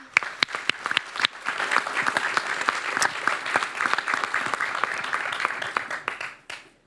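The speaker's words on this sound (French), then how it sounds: "Voilà, bravo, on peut applaudir." An audience at a business conference on financing applauds for about seven seconds, steady mixed clapping with a few sharp nearby claps, fading out at the end.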